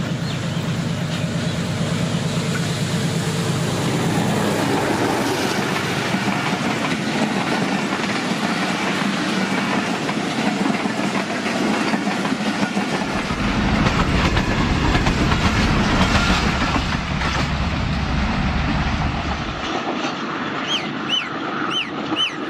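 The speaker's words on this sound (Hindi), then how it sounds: "ये स्पीड पकड़ रही है ट्रेन क्योंकि 5 किलोमीटर पहले ये निकली है।" A train rumbles through Chak Pirana railway station picking up speed, steady loud clickety-clack of wheels over rail joints with a deep roar, close and continuous throughout.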